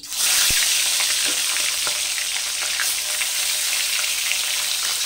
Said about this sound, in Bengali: প্রথমে আমি মাছের মাথাগুলোকে ভেজে নিচ্ছি।